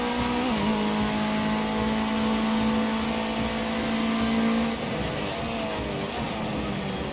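A Ginetta Junior race car in the Project CARS 2 video game holds a steady high engine note through a corner, then the pitch drops and wavers as the revs change.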